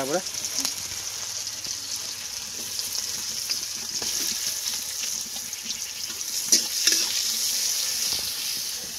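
Onions frying in hot oil for a crab and potato curry, a steady hiss and sizzle running throughout at moderate level, with a few brief clatters near the end.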